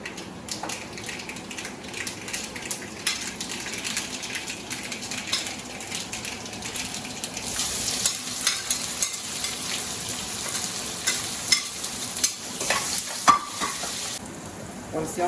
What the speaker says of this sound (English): And now we are going to fry the onions, add oil